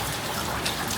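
Heavy rain pours onto a home terrace during the monsoon, a dense, steady hiss of drops spattering on a hard surface that stays loud and close for the full second with no voices.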